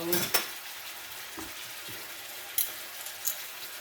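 Garlic steak bites searing in a pan, a soft steady sizzle punctuated by a few scrapes and clinks of a utensil stirring against the metal, quiet and close.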